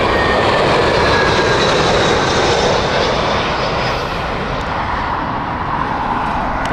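An airliner landing at Heathrow Airport on morning operations roars loudly overhead, a broad sustained engine rumble and whine that fades slightly as it passes, heard alone without speech.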